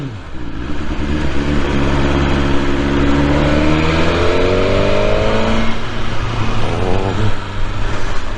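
A BMW S 1000 R motorcycle engine revs hard on a ride, its pitch climbing through a rising sweep and dropping back, loud and close over steady wind and road noise.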